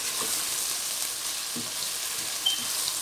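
Tomatoes and spices fry for aloo gobi, a cauliflower and potato curry, giving a steady close hiss with faint soft stirring taps and no talk.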